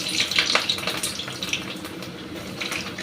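Carrots hit hot oil in a pan for prawn chow mein, giving a bright, hissing sizzle with crackly bursts that stays fairly close and steady.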